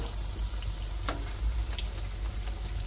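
Bhajiya pakoras frying in hot oil: a steady, close sizzling hiss that runs unbroken for a few seconds, with a few faint pops and crackles and no voices.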